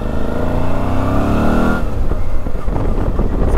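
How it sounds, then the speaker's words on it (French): A 2004 Suzuki DL 650 V-Strom twin-cylinder motorcycle engine revs up to a high pitch, then drops back to a throaty, rumbling idle with a loping, uneven beat, heard close and loud. "Ça fait un petit son sympa quand même, hein, petit son de bicylindre quoi"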